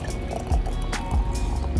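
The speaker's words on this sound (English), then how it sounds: "All right, let's pour it in." Smoked Paloma cocktail poured into a mason jar, a short liquid pour with a few soft splashy bursts and low gurgles, fairly close, no talking.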